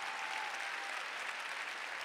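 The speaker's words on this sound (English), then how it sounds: "Come on, clap your manos." A large church conference crowd claps together in a steady, dense roar of hands that stays even and unbroken, with no speech over it.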